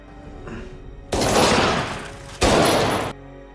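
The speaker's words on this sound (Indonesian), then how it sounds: "Peter langsung menembak Nikolai." Two loud, sustained blasts of gunfire from a horror film scene, each roaring for over a second before cutting off sharply, with the second burst shorter than the first.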